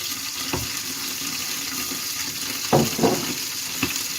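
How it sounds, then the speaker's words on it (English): Aubergines and tomatoes frying in oil in a pan, with a steady low sizzle and a few louder crackling bursts near the end, alone without talk. "Now we fry them in the pan. We pour some oil in the pan."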